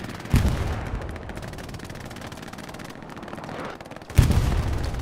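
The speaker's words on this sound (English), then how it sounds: "That had to be artillery." Artillery shells in a Hell Let Loose competitive match on the Sainte-Mère-Église map: two heavy booming impacts a few seconds apart over a constant rumble of distant gunfire, with no talking.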